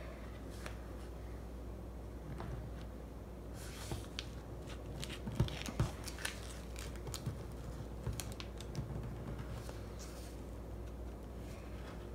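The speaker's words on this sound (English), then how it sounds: "Go ahead and pin it on and then just cut it out with your scissors." Scissors snip through romper fabric pinned to a pattern, giving soft, irregular crunching cuts and light rustles up close over a quiet room.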